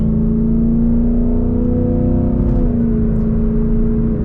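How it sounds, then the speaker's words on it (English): A Ford Mustang GT engine in fifth gear with its exhaust in track mode drones close and loud with a deep, steady exhaust rumble, its pitch easing slightly partway through. "let's actually turn the exhaust into track mode so you can really hear it"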